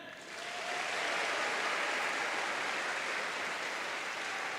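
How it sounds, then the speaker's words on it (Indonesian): An audience at a school orientation opening bursts into applause, a dense, even roar of many hands clapping that rises within the first second and holds steady, moderately distant. "Tepuk tangan."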